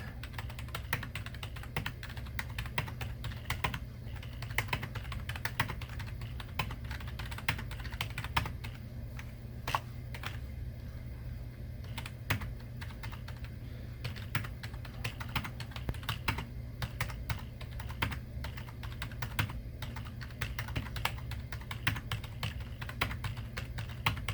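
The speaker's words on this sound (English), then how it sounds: "we're just going to type in all of the time points that are in the furthest left column" Steady, rapid keystrokes on a computer keyboard as numeric time-point values are typed into a spreadsheet, a dense clatter of clicks running continuously at close range with no voices.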